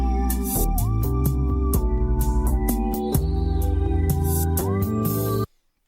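An unprocessed music sample looped in Serato Sample for a beat: a dense, bright melodic passage with sustained tonal lines and regular rhythmic accents, playing loud and steady before cutting off abruptly into silence.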